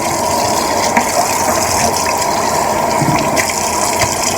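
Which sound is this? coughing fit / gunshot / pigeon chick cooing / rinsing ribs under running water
rinsing ribs under running water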